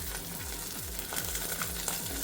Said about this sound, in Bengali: তো পেটি মাছ ভাজা হচ্ছে এখানে নিজে।